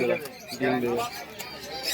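Fancy pigeons at a rural haat livestock market, with a couple of brief throaty coos close by in a short burst, mixed with a voice talking.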